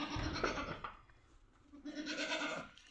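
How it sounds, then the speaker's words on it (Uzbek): A Saanen breed goat on a farm gives two bleats, one near the start and another around two seconds in, fairly faint with quiet farm background and no talk. "zanin zotli echkimiz"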